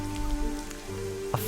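Steady rain from the video game Evoland 2 patters on a surface as a dense, even wash over low tones, with a brief louder knock near the end.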